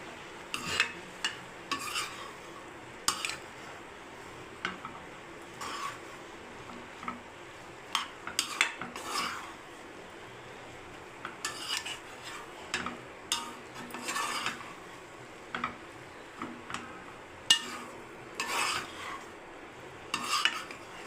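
Bread pieces and egg for bread egg kothu are stirred in a pan, giving a steady run of scraping and clinking spatula strokes over a faint sizzle, close and moderately loud with no talk.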